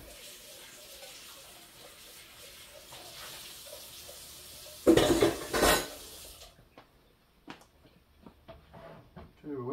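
Eggs poured into a buttered pan set off a sudden loud sizzling burst lasting under a second, followed by quieter clinks of utensils and pans, with someone talking.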